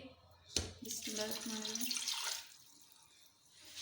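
A glass of water poured into a pan of keema with matar, a sharp clink followed by a couple of seconds of splashing liquid, fairly quiet and close in a home kitchen, with a voice faintly present.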